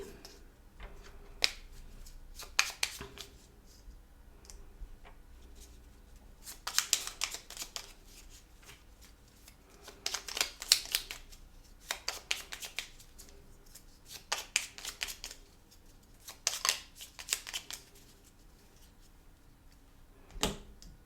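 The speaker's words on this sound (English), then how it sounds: "Let me shuffle Gary's tiles really quickly." Small tiles clatter and rattle in repeated bursts as they are shuffled by hand, quick clicking flurries separated by quieter pauses, close up.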